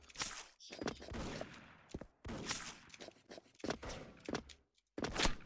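Sniper rifle shots with an M200 in the video game Special Force, loud sharp cracks repeating several times in bursts with short gaps between, alone with no talk.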